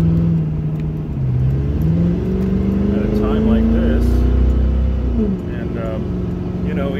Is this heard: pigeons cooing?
no